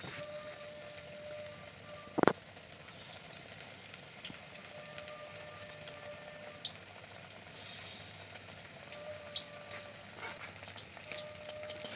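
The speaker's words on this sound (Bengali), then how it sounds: "এখন আমার বড়াগুলি ভাজা হয়ে গেছে" Hummingbird tree flower (bakful) fritters fry in hot oil with a faint, steady hiss and scattered small crackles, plus one sharp knock partway through.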